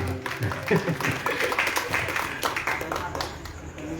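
Audience applause for a singer at a poetry prayer night in Bali, a steady wash of many hands clapping at moderate distance, carried on for several seconds alongside talk.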